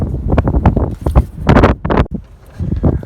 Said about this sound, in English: it's time for filming, so it's time for the wind to kick up